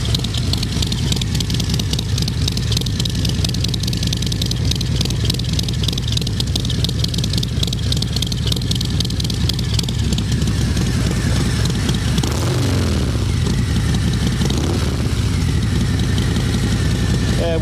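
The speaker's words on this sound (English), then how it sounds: "I'll turn the bike on here in a second and let you hear that" A 2019 Harley-Davidson Fat Bob 114 motorcycle idles steadily nearby in a residential area, a continuous low throbbing rumble with a brief louder swell partway through.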